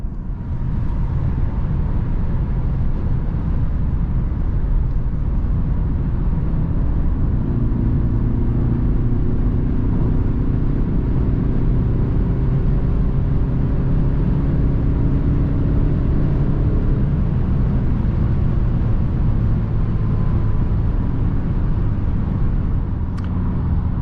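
A 2022 Mercedes-Benz C-Class rolls over potholes and bumps, heard from inside as a steady low road rumble and cabin drone with soft thumps, no talk.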